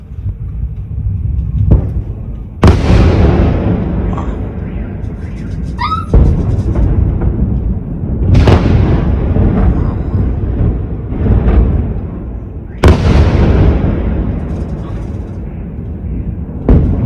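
Russian missile attack explosions over Kyiv at night come as several loud, sharp booms spaced a few seconds apart, each followed by a rolling rumble, with a faint voice between blasts.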